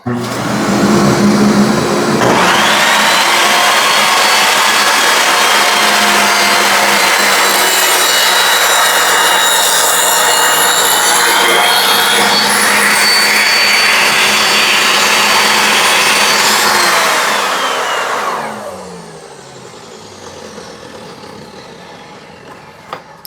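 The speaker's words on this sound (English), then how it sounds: "I need to turn on the vacuum." A loud workshop vacuum in a woodworking shop roars to life, holds a steady whine for about fifteen seconds, then winds down and cuts off.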